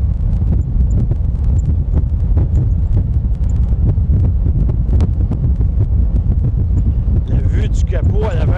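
Loud wind buffeting across an open car with a flat windscreen while driving, a steady broadband rush with low rumble throughout; a voice speaks faintly under it and a brief squeaky tone rises near the end.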